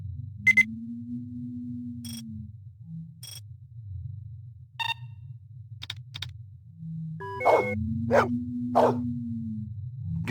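A dog in the Blade Runner video game (1994 PC version) gives a few short, sharp barks in scattered bursts over a low, steady electronic hum, with another long tonal drone sweeping in between.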